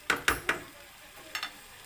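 Chicken curry cooking in a pan, giving a few sharp sizzling stirs and scrapes early on, then softer bubbling and a couple of quieter scrapes.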